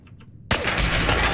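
Gunfire in Fallout 4 as a crossbow fires, a sudden loud sharp burst that breaks a near-silent moment and rolls into sustained dense combat noise.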